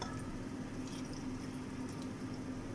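A soy sauce and wine mixture is poured into a pressure cooker while making vinegar pig's trotters with eggs and ginger, giving a steady, soft liquid pour with light splashing and no voices.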